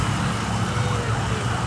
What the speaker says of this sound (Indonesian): ini dia ambulans, kita lewat ambulans pertama